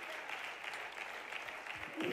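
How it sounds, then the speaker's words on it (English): Church congregation gives a big round of hand clapping, a dense, even spread of claps at moderate level lasting about two seconds, with a few low voices near the end. "why don't we give the Lord one more big hand clap before we're seated today"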